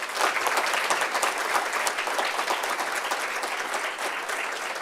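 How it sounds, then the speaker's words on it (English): Warm, steady audience applause at a student government inauguration and installation ceremony, many hands clapping with distinct individual claps audible in the mix. "So let's give them a round of applause."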